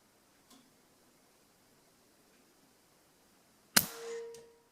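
A Benjamin Marauder .25 caliber air rifle fires once outdoors: a single sharp, loud crack after near silence, followed by a brief ringing tail that fades quickly, with a faint tick earlier.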